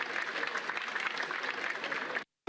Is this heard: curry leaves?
no